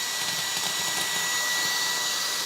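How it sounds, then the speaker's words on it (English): Brigii MX30 handheld vacuum cleaner running with its 2-in-1 accessory attached, a steady, loud, close whine of suction motor and airflow that holds unchanged and then cuts off abruptly at the very end. "Super strong suction power, as you can see, with this 2-in-1 accessory."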